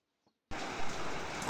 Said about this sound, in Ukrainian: на вулиці йде дощ. І ось ви його маєте чути